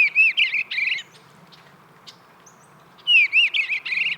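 Eastern bluebird calls in two bursts of bright, warbling chirps, loud and close, separated by a quiet gap of about two seconds with faint background hum.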